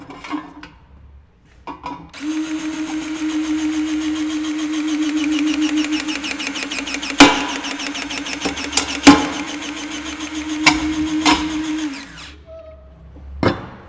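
A power cutter slices through 16-gauge, 3-5/8 inch structural steel C-stud with a steady, loud whine lasting about ten seconds, marked by a few sharp clicks and snaps near the end.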